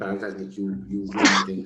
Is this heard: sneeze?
yes